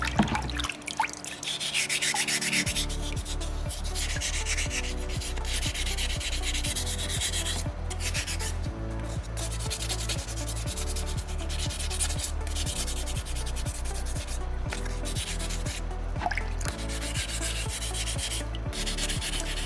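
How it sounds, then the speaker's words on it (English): Soapstone carving being hand-sanded with 600 grit sandpaper: close, steady rhythmic rubbing strokes repeating in a regular back-and-forth pattern, with no talking. "because it's a 600 grit, you're not going to be getting rid of a ton of stone with this"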